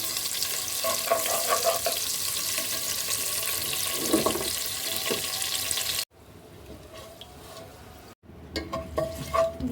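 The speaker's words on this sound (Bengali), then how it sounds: "পেঁয়াজটা ভেজে নিব।" Onions fry in a pan with a continuous sizzle and occasional stirring, joined by watery running sounds, before cutting to quieter, patchy kitchen noise near the end.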